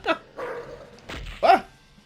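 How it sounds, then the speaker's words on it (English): Barking from the 3DO version of Wolfenstein 3D, a few short digitized dog barks and yips in quick succession, fairly close and loud. "You eat the dog food, you bark like a dog."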